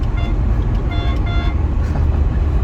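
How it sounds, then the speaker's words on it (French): The original horn of a Ferrari 308 GTB sounds in a few short, toots over a constant loud roadway and engine rumble. "Klaxon d'origine."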